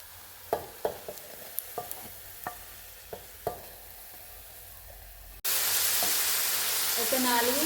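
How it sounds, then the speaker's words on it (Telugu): Four thinly sliced tomatoes hit a pan where they are being fried, and a loud, steady sizzle rises after a series of sharp clinks and taps from utensils. "అవి కూడా ఇప్పుడు ఇందులో ఈ ప్యాన్లో కాస్త ఫ్రై చేసుకుంటున్నాను."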